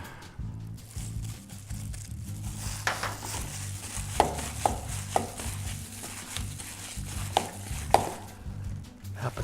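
A knife chops green onions on a cutting board for lumpia and gyoza filling, an irregular series of close, crisp taps over a quiet kitchen background.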